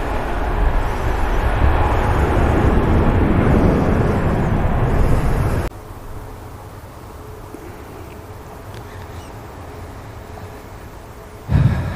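EasyJet airliner at Manchester Airport, a loud, broad engine roar that cuts off abruptly halfway, leaving a quieter hum with a faint whine and a brief bump near the end.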